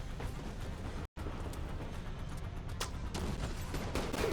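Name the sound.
sniper rifle gunfire in The Division 2 video game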